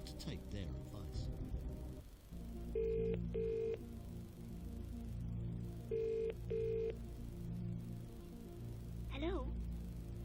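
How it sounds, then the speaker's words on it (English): In the Dreamcast version of Who Wants to Be a Millionaire, a telephone rings twice in double electronic trills during the phone-a-friend lifeline, set over a low tense music bed and brief talk. "Okay, you've chosen to phone a friend. Now let's call them up."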